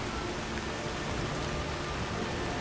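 Steady pouring rain in Skyrim, a dense even hiss that stays constant throughout with no breaks or other sounds.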